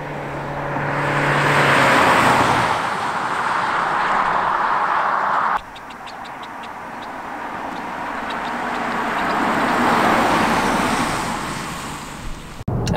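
A 2020 Honda Accord Sport with the 2.0 engine, front-wheel drive, drives past in flybys, its engine and tire noise swelling loud as it nears and fading away, twice in succession, with no talk.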